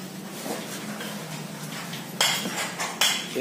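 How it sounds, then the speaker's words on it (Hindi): Metal spoon scraping and clinking against a bowl while veg Manchurian ingredients and spices are mixed, with a low steady stir and two sharp, close clinks near the end. "अभी इन सबको अच्छे से मिक्स करेंगे पूरा"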